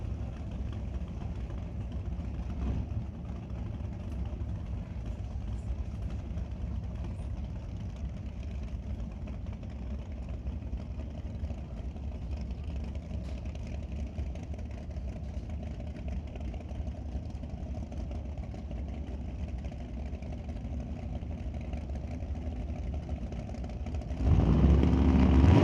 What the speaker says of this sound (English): 598 cubic inches of big block Chevy, both sides of the racetrack